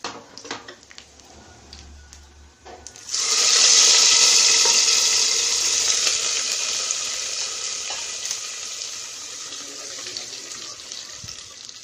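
Hot tempering of oil with curry leaves poured into Kerala sadya-style beetroot pachadi, setting off a sudden loud, steady sizzle after a quiet start that slowly fades over several seconds, with no talk.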